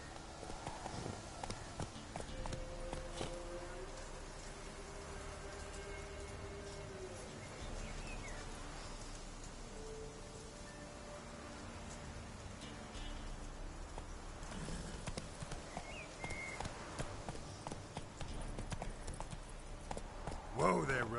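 Roach, the horse in The Witcher 3, walks and trots with steady clip-clop hoofbeats over faint ambient birdsong and insects, the hooves quiet and continuous for the whole stretch.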